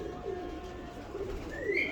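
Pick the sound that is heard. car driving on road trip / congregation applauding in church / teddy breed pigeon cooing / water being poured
teddy breed pigeon cooing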